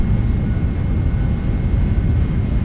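Airliner jet engines roaring at takeoff thrust on a PMDG 777-200ER with Rolls-Royce engines in Microsoft Flight Simulator, departing Johannesburg at night: a loud, steady, continuous rumble with no breaks.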